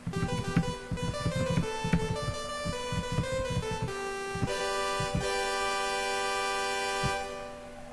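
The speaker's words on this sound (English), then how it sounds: "so it's just a plain sawtooth wave" A bright, buzzy plain sawtooth synth tone plays a series of notes, its later sustained chord washed in reverb that trails off at the end.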